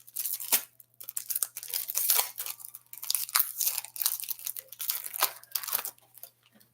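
A Tim Hortons hockey card pack tears open up close, with crisp ripping and crinkling foil wrapper noises in repeated short bursts, loud and dry with no talking.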